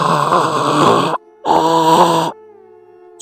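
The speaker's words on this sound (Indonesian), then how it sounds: "muncul suara seperti seseorang yang tercekik hingga napasnya seperti napas yang terakhir." Choking, gasping breath sound effect, two long strained groaning inhalations of about a second each separated by a short gap, loud and close, followed by a fainter trailing tone.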